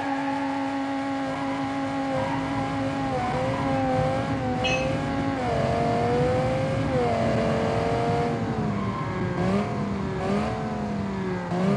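A V10 engine in an SUV, drifting in the BeamNG driving game. The loud, continuous engine note climbs, dips and climbs again as the revs swing over about twelve seconds, with some tire noise underneath.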